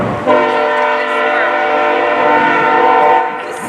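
A passing train sounds its horn in one loud, sustained, harmonically rich blast near a Calumet City storm water pump station, with the rumble of rail cars beneath it.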